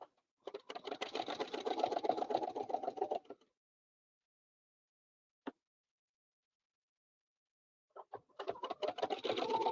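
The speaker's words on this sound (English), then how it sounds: "I just line it up on my line, stitch part and stop." A sewing machine runs in two bursts of steady rapid stitching, starting near and loud, then stopping for several seconds of silence broken by a single click before stitching resumes.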